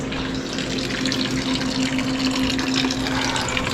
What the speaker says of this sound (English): So I'm just draining it out now.